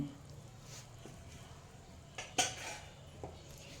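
Spoon scraping and clinking against a bowl while a spoonful of soaked tamarind and jaggery mix is added for girmit, a few faint taps and one sharper clink in a quiet kitchen.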